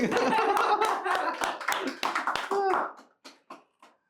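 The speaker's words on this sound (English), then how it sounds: "Please, everyone, clap for me." A small group claps at a live PC build session, with brisk clapping mixed with chatter and laughter that fades to a few isolated claps at the end.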